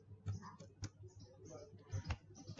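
Quiet, irregular clicks of keys being pressed on a computer keyboard, a few sharper taps standing out among lighter strokes, close by and faint in a hushed room.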